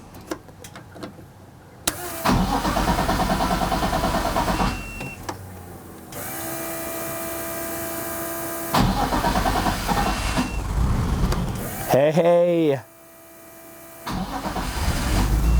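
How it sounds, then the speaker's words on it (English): A car with no catalytic converters, jump-started in a garage with an Auxito AJ01 portable jump starter, cranks loudly in bursts and then catches into a running engine. One brief spoken word sits among the close mechanical noise. "I am going to run the jump pack back to the trunk, and then we will try to start the car."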